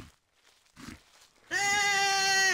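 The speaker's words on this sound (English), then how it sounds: "Wow, a cute little goat." A goat bleats once, loud and close, a long wavering cry following a few soft rustles and low muffled noises.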